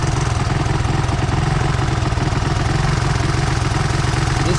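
A Honda 185S three-wheeler with modified ignition timing idles nearby, its engine putting out a loud, steady, rapid thumping pulse that holds an even rhythm throughout.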